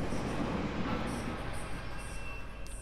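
Train in the 2012 Syndicate video game, a steady loud rumbling roar that holds constant throughout with a faint high hiss above it, no voices over it.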